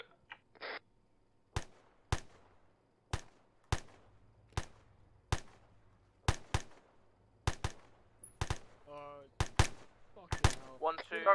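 Gunfire in an Arma military simulation: a series of single sharp rifle shots at irregular intervals, loud and close with short echoing tails, and a quick burst of rapid fire near the end.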